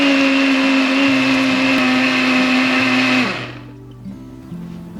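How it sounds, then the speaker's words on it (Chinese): A blender crushes 200 grams of corn kernels with 50 grams of water in a loud, steady whirring grind that runs for about three seconds, then cuts off abruptly and leaves faint low rattles behind. "用搅拌机把玉米粒打碎。"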